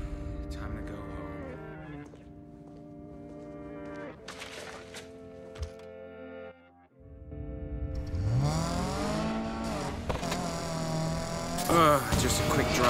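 A car drives in the video game Need for Speed Payback, its engine droning and then swelling and revving loudly in the second half, mixed with game sounds and faint voices.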